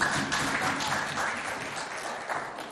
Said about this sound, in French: On les applaudit quand même bien fort, s'il vous plaît.